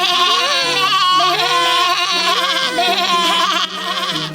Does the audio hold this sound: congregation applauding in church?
no